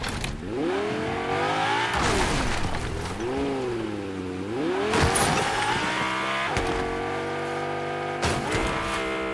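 A car driving in Fortnite, its engine revving loudly with rising and falling pitch as it shifts through gears, plus bursts of tire noise and impacts, close and continuous.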